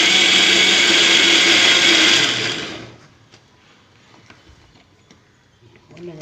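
A mixer grinder whirs loudly as it grinds onions, a steady high motor roar that cuts off after about two seconds, leaving quiet clinks and faint handling noises.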